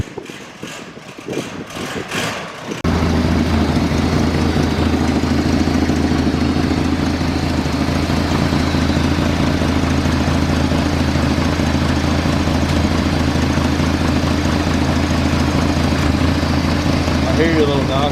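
A 1979 AMC Concord engine, leaking fuel, starts after a few seconds of quiet handling noise and settles into a loud, steady idle with a low rhythmic throb and faint ticking knock.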